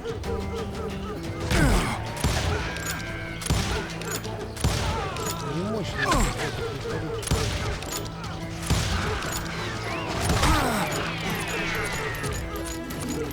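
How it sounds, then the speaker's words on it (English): Gunfire in the Western shooter Call of Juarez: Gunslinger, scattered shots ringing out repeatedly over a busy game soundtrack with music, and voices in the mix. "Палят прям по черной грязи."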